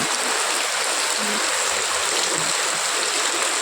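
Loud, dense rush of heavy rain pouring down without a break, a constant close hiss filling the whole stretch.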